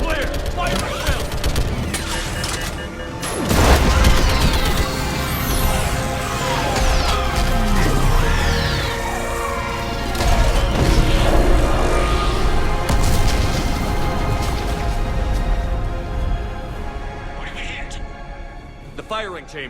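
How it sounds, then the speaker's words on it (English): Orbital strike in the game Mass Effect 3, heavy booming blasts and crackling gunfire rolling continuously over a rumbling battle, with voices talking throughout. "I need an orbital strike"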